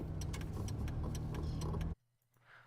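A car-driving sound effect plays through a phone, a steady engine and road rumble for about two seconds before cutting off abruptly into near silence.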